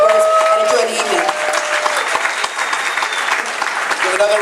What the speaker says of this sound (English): Give another round of applause for our public advocate, Tim James.